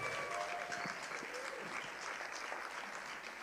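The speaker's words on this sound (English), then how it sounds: "Let's give them all a great big round of applause." An evening awards-gala audience honouring educators claps loudly and steadily, a dense sustained round of applause with faint crowd murmur underneath.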